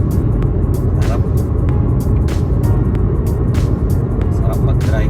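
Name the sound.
car driving on Highway 97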